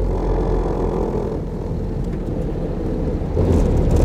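A 1937 Mercedes 170 V Cabriolet engine pulls uphill in third gear on Bavarian mountain roads, a loud, steady low drone and rumble from inside the car that swells slightly near the end, with no talking.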